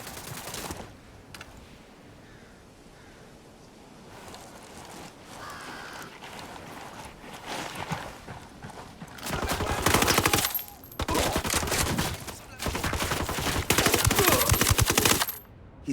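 Rifle fire in the Tom Clancy's Ghost Recon Wildlands video game, bursts of rapid gunshots that grow into loud sustained volleys, with quieter scattered shots earlier.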